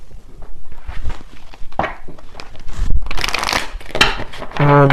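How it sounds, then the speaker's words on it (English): Oracle cards being handled and shuffled close up, with soft papery riffles and rubs building into a brisker burst of shuffling, followed at the end by a brief voice-like tone. "So let me grab a few oracle cards here."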